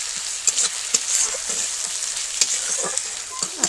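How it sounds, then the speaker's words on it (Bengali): Spice masala for a Bengali village-style cabbage curry sizzles steadily with onions in oil, broken by repeated scraping stirs of a spatula in the pan, close and continuous with no voices. "নাড়ে চেড়ে ভালো করে মশলাটা ভালো করে কষিয়ে নেব"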